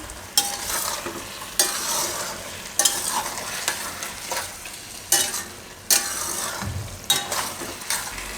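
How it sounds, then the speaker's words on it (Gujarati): Leftover-roti manchurian is stirred in hot gravy, with repeated scraping strokes of a spoon against the pan at a steady rhythm over a soft sizzle, close and fairly loud. "થોડીક વાર આને ગ્રેવીમાં આપણે આ રીતે ફેરવી લેવાનું ખાલી મિક્સ કરીને"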